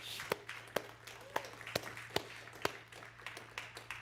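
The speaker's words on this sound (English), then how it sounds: "And we want to give you a round of applause" A church congregation claps for military veterans during a worship service: scattered, individual claps at an uneven rhythm, fairly faint and roomy, with a low steady hum underneath.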